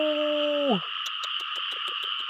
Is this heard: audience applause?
no